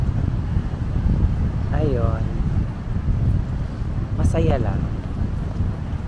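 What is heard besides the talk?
strong wind at the beach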